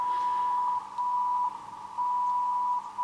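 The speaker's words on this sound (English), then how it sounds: "You can clearly see the Japanese time signal." Japanese VLF time signal picked up on a software-defined radio: a steady, loud electronic tone keyed on and off in long pulses of roughly a second, with short gaps, over a faint background hiss.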